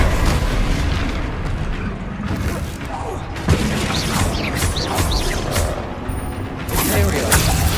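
Spells go off in explosive bursts and crashes during Hogwarts Legacy combat, with loud, dense booms and rumbling debris over continuous game action and brief voice lines.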